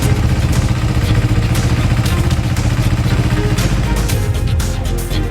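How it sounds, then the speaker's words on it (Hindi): Engine drone of a cartoon motorcycle speeding away, a loud, steady revving rumble with clattering texture that fades slightly toward the end. "मोटरसाइकिल चलाकर वहाँ से भागने लगते हैं"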